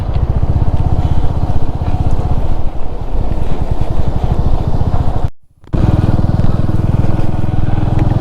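A motorcycle engine drones steadily and loudly throughout, with a brief dropout near the middle before the running engine returns.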